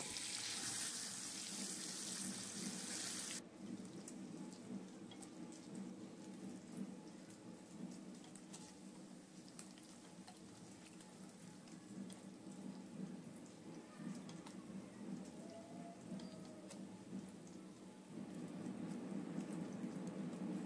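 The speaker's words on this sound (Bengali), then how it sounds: "প্রথমে নুন দিয়ে দিলাম একটু পনিরগুলোতে, হালকা করে ভেজে তুলে নেব" Salted paneer pieces fry lightly in oil for a milk-and-bottle-gourd dish. A continuous rain-like sizzle runs throughout, louder at the start and again near the end.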